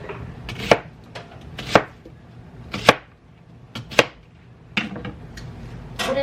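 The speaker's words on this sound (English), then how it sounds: "And I cut them about, what is that, about a ½ inch? What, about a ½ inch? About that thick. That's about how thick I do the onions." Knife chopping onions into half-inch pieces on a cutting board in a home kitchen, six distinct sharp chops spaced about a second apart, close and clear with a low background hum and no talking.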